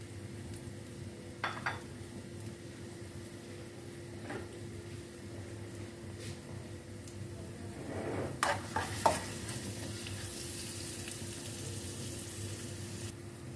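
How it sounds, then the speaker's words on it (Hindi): Onions sautéing in hot cooking oil for a vegetable Chinese kabab, a steady low sizzle under occasional stirring scrapes and a few louder clatters of a spoon against the pan partway through. "अब इसमें हम प्याज डाल लेंगे। इसको हमने हल्का सा सौते कर लेना है प्याज को।"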